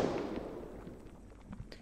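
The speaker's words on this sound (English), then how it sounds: "Hello, firecracker." A firecracker bursts in the video game Cooking Simulator VR, a sharp crack at the start that decays into crackling and scattered pops, with no voices.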